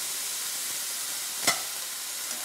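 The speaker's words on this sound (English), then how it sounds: "Now I've got a hot frying pan, and I'm going to go right into the frying pan." Miracle noodles sizzle steadily in a hot frying pan, a constant fine hiss broken by one sharp, brief crackle of moisture midway, with no talk.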